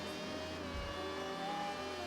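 A Formula 1 car engine whines in Gran Turismo at the Nürburgring Nordschleife, a steady, faint high-pitched tone, slightly rising, with a brief low thump partway through.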